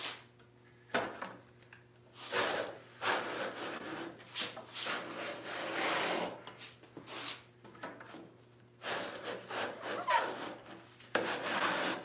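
Hand saw resawing an 8-inch wide walnut board, with repeated bursts of rasping back-and-forth strokes separated by short pauses, close and fairly loud, with no voices.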